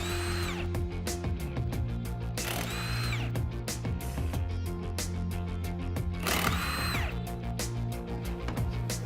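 A power tool, likely an impact gun, runs at the front of a 2007-2018 Jeep Wrangler JK to remove the wheels, loud and continuous with a few sharp bursts over a mechanical hum.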